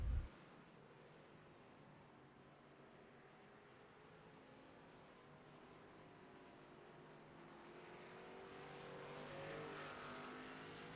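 Race cars in the iRacing sim swell past through the NASCAR turn at Charlotte Roval, a steady engine drone that builds toward the end of the stretch and stays moderately distant throughout.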